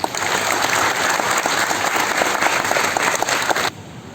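Dense applause from an audience at a GST Day celebration in Belgaum, a steady wash of many hands clapping at once that continues loudly for several seconds and then drops off suddenly near the end.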